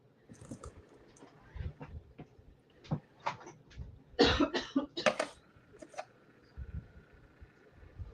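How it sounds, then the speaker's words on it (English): A few sharp coughs cluster in the middle, close and fairly loud, with quieter coughs and throat sounds scattered before and after over a low room hum. "you got me coughing"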